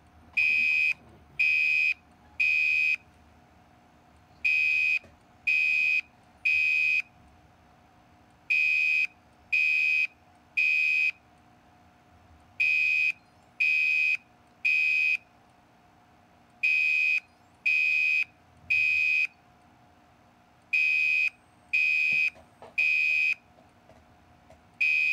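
A fire alarm sounds loud electronic beeps in groups of three, separated by short pauses and repeated steadily, over faint background hum.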